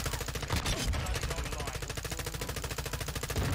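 Rapid automatic gunfire in a Call of Duty match, a steady stream of evenly spaced shots running the whole way through at moderate level, with a brief louder burst near the start.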